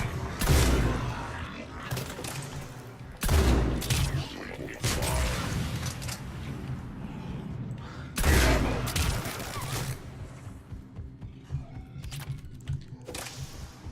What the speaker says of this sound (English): those Inferno grenades just ripping through him so fast.